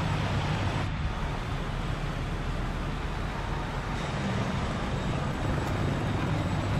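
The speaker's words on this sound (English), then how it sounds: "That sounds like a helicopter." A friendly helicopter in the War Thunder tank battle passes overhead as a steady, broad rotor and engine roar that fills the whole clip at an even, moderate level, with no talk.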